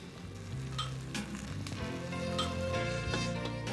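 Ginger paste fries in a pan with garlic paste, producing a faint, steady sizzle with a few light ticks and no talking.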